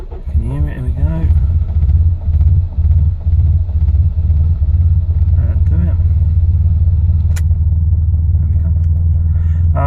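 A car engine idles on its own after its idle control valve was cleaned, a steady low rumble throughout with someone talking over the first few seconds.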